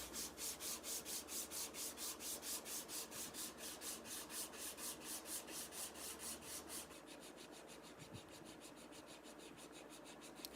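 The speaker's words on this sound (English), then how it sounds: "Lots of sanding." Rhythmic back-and-forth sanding of a wooden guitar neck, quick regular strokes that soften into a smoother continuous rub toward the end.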